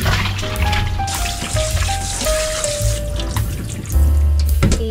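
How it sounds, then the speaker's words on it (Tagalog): Tap water runs steadily into a kitchen sink as pork for adobo is drained, a close continuous splashing stream that grows louder and heavier near the end. "Drain lang natin ng pork."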